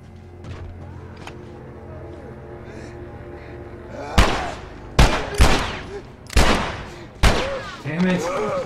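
Gunfire in The Last of Us: several loud, sharp shots ring out in the second half, spaced irregularly over a quieter ambient game background.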